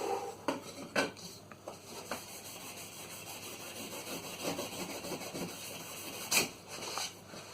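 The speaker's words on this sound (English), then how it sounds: "So I'm using some aluminum foil or steel foil, you can say. I can clean it." Aluminum foil rubs and scrapes across a printed circuit board to clean it, giving a series of scratchy, clinking strokes up close with a few sharper knocks and no talk.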